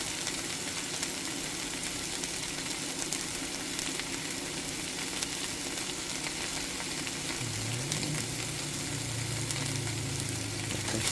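Marinated bone-in beef chuck short ribs, LA galbi style, sizzle steadily in a hot pan, a loud continuous frying hiss with a low hum joining near the end.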